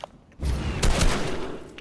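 Rapid burst of gunfire in the video game Fortnite, a dense close volley of shots that bursts in abruptly and rattles on loudly for over a second.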